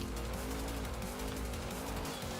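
The stock engine of a Trailcat in Forza Horizon 5 drones steadily and throatily at near-constant pitch, loud and close throughout, with no voices.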